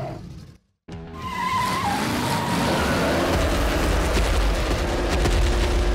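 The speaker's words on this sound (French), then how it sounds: "Le plus urgent, C'est de faire crisser les pneus." Hot Wheels toy cars in an animated city chase, with loud tires screeching and skidding continuously after a brief silent gap, under a roaring engine and action noise.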